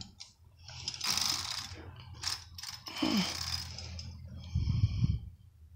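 A Brother 8-button knitting machine carriage is pushed across the needle bed in plain knitting, making a near mechanical whir and rattle with clicking and clunks, ending in a louder thud.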